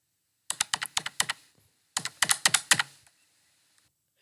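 Bursts of typing on a computer keyboard, two quick runs of clicking keystrokes close by with a pause between, alone and without talk.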